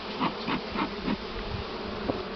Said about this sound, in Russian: Сейчас гоню пчел, чтобы закрыть все хорошо.